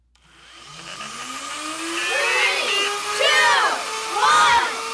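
A Nerf turret robot's motor spins up from silence, a rising whine that climbs in pitch and loudness over several seconds, with a few warbling surges near the end.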